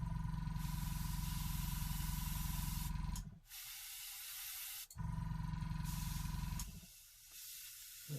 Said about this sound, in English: as a general rule with an airbrush, the further away you are, the wider the field of the colour that you get.